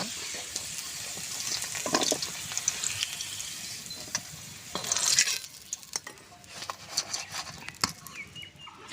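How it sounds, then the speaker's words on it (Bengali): Potatoes seasoned with salt and turmeric fry in a pan with a soft, sputtering sizzle, broken by repeated scraping stirs of a spatula. It is fairly quiet and close, with small crackling bursts throughout. "আলুটা ভেজে নেব।"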